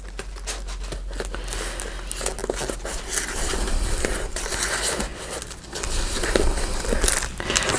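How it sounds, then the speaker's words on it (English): A pet chews and gnaws on something at a craft table, a continuous crinkly crunching and biting texture with crackles, fairly close and steady throughout with no talking. "Luigi, what you chewing on?"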